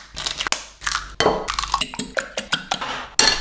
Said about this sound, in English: crack them into a bowl and beat them together